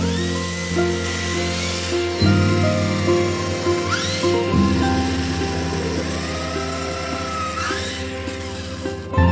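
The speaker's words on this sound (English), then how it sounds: "drilling the pilot holes and countersinking each before gluing and securing with the screws" A power drill whines in steady bursts up close, its motor pitch shifting as it bites into wood while drilling pilot holes for a microwave cabinet, with brief pauses between holes.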